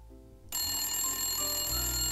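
A telephone rings steadily and close by, a continuous electronic bell tone that starts abruptly and holds without pause, with no talk over it.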